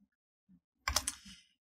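A few quick keystrokes on a computer keyboard while entering a Windows command, soft isolated clicks followed by a short cluster of taps, close and alone.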